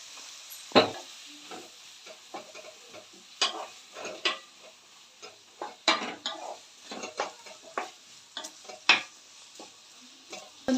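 Onion and tomato fry with curry leaves in a pan for Palakollu-style chicken curry, a faint sizzle under frequent clattering utensil scrapes and stirring knocks at close range.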